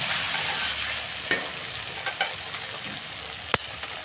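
Asafoetida dropped into hot oil for a tomato dish gives a steady, close sizzle with a few sharp stirring clicks and pops, and no talking over it.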